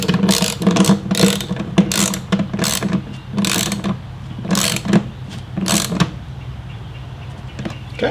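Ratchet with a 1/2 inch socket tightening the bolts of a saddlebag bracket for a Harley motorcycle, with rapid bursts of close, loud clicking in repeated strokes that stop toward the end.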